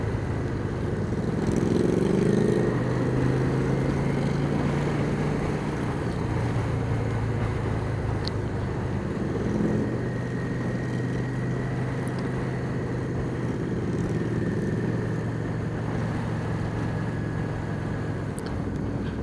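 A Scrambler motorcycle with slash-cut exhaust pipes idles and revs with a continuous, hearty low rumble, close and loud throughout with slight swells in pitch.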